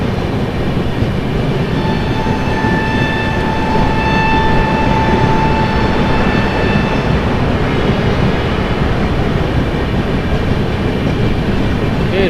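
The Chhattisgarh Express pulls in and stops, a loud continuous rolling rumble of the carriages with a high whine in the first half that fades as the train slows.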